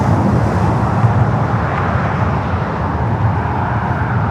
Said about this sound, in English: We also have a Delta 767 number 2 for takeoff here on the north.